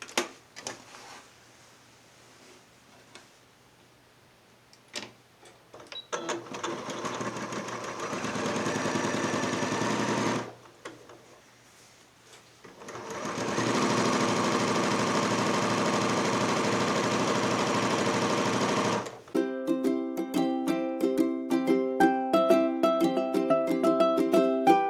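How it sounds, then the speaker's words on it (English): A sewing machine stitches a quilt backing seam along a folded edge in two long bursts of fast whirring with quiet pauses between them, followed at the end by soft music. "I'm going to take this to my machine and I'm going to follow this folded edge. I'm going to stitch right on the folded edge"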